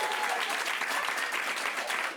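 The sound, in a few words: audience applause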